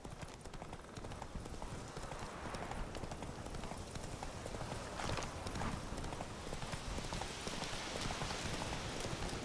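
Hooves of Roach, Geralt's horse in The Witcher 3, trot in a steady clip-clop through White Orchard, close and continuous under a rain-like hiss, with no voices.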